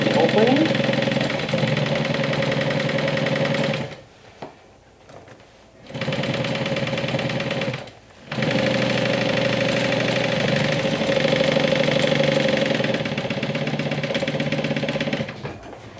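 A domestic sewing machine top stitches a lining seam in steady, fast motor-driven runs, pausing briefly twice before resuming, loud and close.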